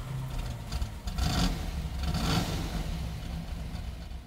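A Plymouth AAR Cuda muscle car engine cranks and rumbles with a deep, steady idle and a couple of brief revs, heard close and without talk.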